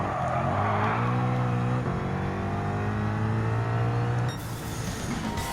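Race car engine in Gran Turismo 7 on a Circuit of the Americas track, holding a loud steady high-revving drone with harmonic tones that shift as gears change, then a brief cut to a brighter, rougher engine sound near the end.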